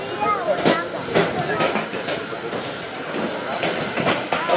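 A 108-year-old D4/5 steam locomotive running at a locomotive parade at the Landquart roundhouse, with bursts of hissing steam and rolling rail clatter, heard outdoors among crowd noise and voices.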